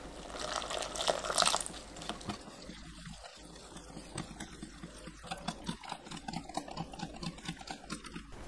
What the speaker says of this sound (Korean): 밀가루 100g, 부침가루 50g, 남은 물 모두 넣고 섞어줍니다.